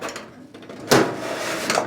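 Small metal door on a Seek Outside U-Turn camping stove swung open and shut, giving two short clanking knocks a little under a second apart in a quiet setting.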